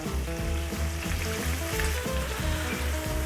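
Shrimp and garlic sizzle loudly and continuously in a pan, a dense close frying hiss with rhythmic bursts as the pan is moved around, with no talk.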